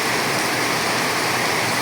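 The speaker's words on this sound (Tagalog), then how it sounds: "biglang bumuhos yung ulan" Heavy rain pours down suddenly in a steady, dense roar with no breaks, loud and close, with no voices.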